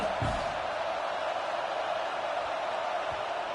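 Video-game football stadium crowd cheering: a dense, continuous roar of many voices at an even level, with a brief thump near the start.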